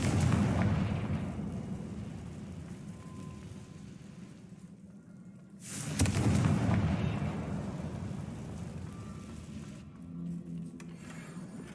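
Confringo fire spells bursting in the Hogwarts Legacy video game, two heavy booming blasts a few seconds apart with rumbling decay and a lingering low roar between them, no voices.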